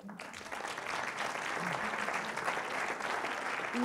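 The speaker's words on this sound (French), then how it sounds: "vous pouvez l'applaudir" Steady audience applause at a film industry awards presentation in a Paris cinema, dense and sustained throughout, moderately loud, filling the room without a break.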